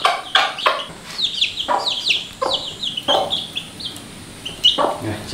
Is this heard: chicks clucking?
yes